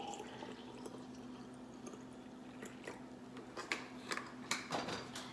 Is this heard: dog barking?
no